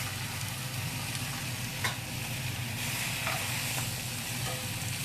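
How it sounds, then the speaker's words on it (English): Spinach wilting in a hot pan on low heat gives a steady, soft sizzle with a couple of faint stirring taps, no talking. "let the residual heat of the pan cook off that spinach."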